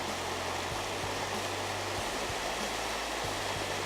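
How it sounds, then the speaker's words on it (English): A small mountain stream near Park City's old mining area flows with a steady, broadband rushing wash, close and constant, with a faint low mechanical hum underneath and no talking. "the little stream bed that provides water to the city of Park City"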